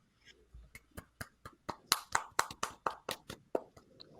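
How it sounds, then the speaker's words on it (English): A clapping sound effect played on cue during a motoring show, heard as a string of about fifteen sharp, separate hand claps in a steady, slightly uneven rhythm, growing louder toward the middle and then thinning out, with no talk over it. "Muhammad, play the clapping noise"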